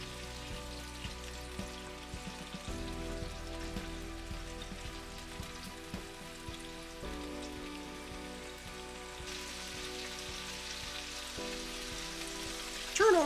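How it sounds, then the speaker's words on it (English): A peppercorn steak fries in a pan, a steady crackling sizzle with small pops that holds fairly quiet throughout, background music underneath and no talking. "After 2 minutes, turn your steak over and brown the other side for the same amount of time."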